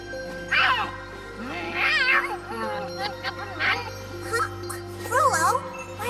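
A cat in the game Tales of Xillia 2 meows repeatedly in wavering, drawn-out cries, several distinct calls over a few seconds, close and clear above soft background music.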